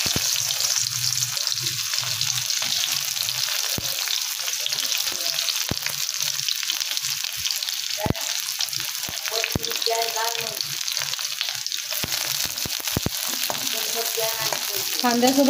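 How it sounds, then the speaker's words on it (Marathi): Onion and garlic frying in a pan, a continuous loud sizzle with occasional sharp stirring clicks and scrapes, close up, with brief snatches of a voice over it. "आता मी कांदा भाजायला टाकते।"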